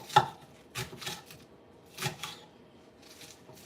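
Knife chopping fresh green onions finely on a board, a few distinct sharp chops spaced irregularly, close and fairly quiet with no talking.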